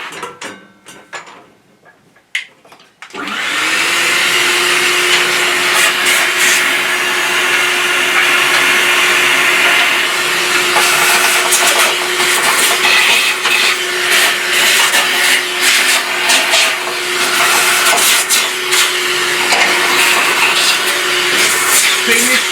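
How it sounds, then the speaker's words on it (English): A vacuum cleaner hoovering inside a BS350 machine starts after a few seconds of clatter, then runs as a loud, steady drone with a constant hum and shifting rattles as the nozzle moves around. "so I might just give it a little bit of a hoover"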